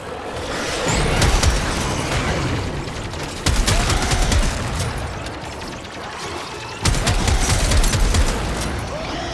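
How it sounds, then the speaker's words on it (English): Bursts of heavy gunfire from the Trumna Prime, a rifle-shotgun hybrid in Warframe, roll out in sustained volleys, with three loud onsets punctuating dense, crackling shots and mechanical clatter, loud and close throughout. "this weapon is a mixture between a rifle and a shotgun"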